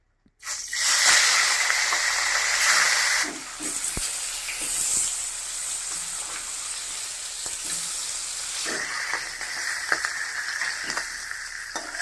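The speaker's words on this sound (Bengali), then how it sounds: "মাছের মাথাটা ধুয়ে আমি লবণ হলুদ মাখাই রাখছিলাম, এখন আমি একটু ভাজে নেব" A fish head rubbed with salt and turmeric drops into hot mustard oil, bursting into a loud close sizzle that settles into steady spitting hiss with occasional stirring taps, no talk.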